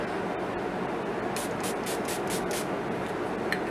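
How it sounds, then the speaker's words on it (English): Several quick hissing bursts of a Ciate London Watermelon Burst makeup setting spray, about five short pumps in a row, close and fairly soft over a steady background hiss, with no talking. "for the setting spray, I'm just using the Watermelon Burst setting spray from Ciate London"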